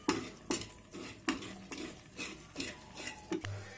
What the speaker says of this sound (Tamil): ஒரு 2 நிமிஷம் நல்லா மசிச்சு விடுங்க.